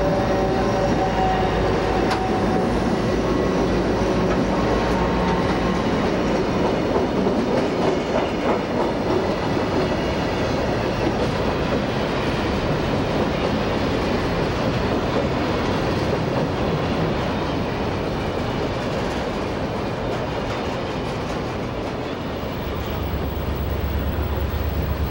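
A CSX road slug bracketed by two GP40 locomotives rumbles past in 1995 Bone Valley, with a steady, loud roar of diesel engines and continuous wheel clatter over rail joints throughout.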